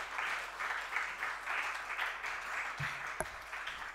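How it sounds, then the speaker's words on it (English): Moderate audience applause for speakers on stage at a green entrepreneurship event, steady clapping throughout with a brief low thump near the end. "can we please have a huge round of applause for these gentlemen on stage?"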